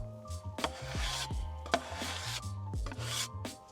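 A scraper drags across a wooden cutting board at an outdoor desert camp in repeated close, gritty strokes, each scrape ending in a short knock against the wood.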